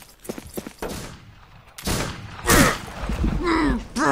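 Gunshots in the Western shooter Fistful of Frags, several sharp loud reports mixed with other game sounds and a brief voice, close and punchy.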